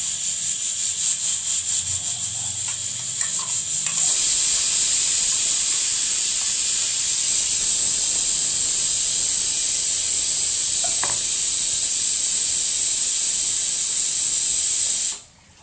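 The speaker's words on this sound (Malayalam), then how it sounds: "നമുക്ക് അരപ്പ് ഒഴിച്ചു കൊടുക്കാവേ." Ground coconut paste poured into simmering prawn curry sets off a sudden, loud, steady hiss that holds strong and close for about ten seconds before cutting off, following some quieter kitchen clatter.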